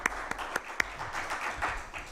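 A lecture audience breaks into brief applause with scattered sharp claps over a steady wash of clapping.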